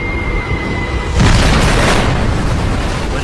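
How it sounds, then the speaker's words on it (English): A bomb detonates deep inside the battleship Yamato after punching through the deck, a sudden deep boom that swells into a sustained roaring rumble, loud and close. "Fellner's bomb punches through the deck and detonates deep inside the ship."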